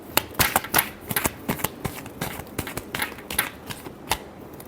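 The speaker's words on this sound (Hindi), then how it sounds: "last shuffle," Tarot cards being shuffled by hand, a close run of quick crisp riffling flutters and slaps repeating in an uneven rhythm, loud and alone with no voices.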